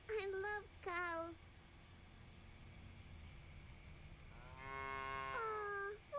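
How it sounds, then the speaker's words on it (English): Cows on a field in a video game moo in three drawn-out, tonal calls: two short ones close together at the start, then a longer moo after a quiet stretch of low background hum. "There's a bunch of cows on the field."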